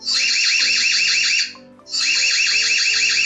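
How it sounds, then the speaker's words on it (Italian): A loud electronic alarm siren from an EZVIZ BC1C security camera's speaker wails in rapid warbling pulses, stopping briefly before sounding again just as insistently. "si attiverà l'allarme acustico dagli speaker"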